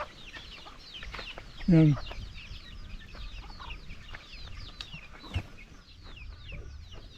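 A mother hen clucks in her cage among other chickens, with a loud burst of clucking near the start over steady farmyard bird chatter and a brief voice.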